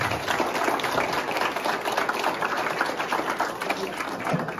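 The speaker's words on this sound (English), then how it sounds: "round of applause for all of you." An audience applauds students who made chowders at a high school chowder contest, a steady dense wash of clapping filling the room throughout, with crowd noise mixed in.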